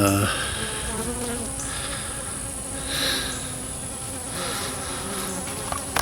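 Honey bees buzz steadily around a hive after a transfer, a dense continuous hum of many insects close by with a few louder passes as individual bees fly near.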